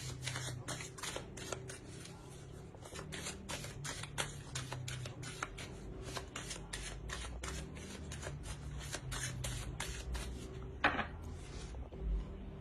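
Oracle cards being shuffled by hand during a tarot-style reading, a steady run of crisp, rapid flicking and riffling taps that carries on close to the microphone for the whole stretch with no talk over it.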